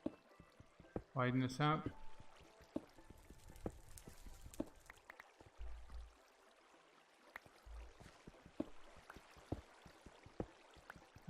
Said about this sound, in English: That water's so very loud.